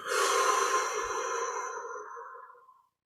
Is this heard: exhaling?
yes